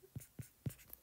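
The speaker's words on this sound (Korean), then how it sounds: "힘 곱하기 이동거리를 한번 써볼게요" A physics formula for work, force times distance, written by hand in a science lesson: three short close scratching strokes of pen or marker, quiet, with no talk.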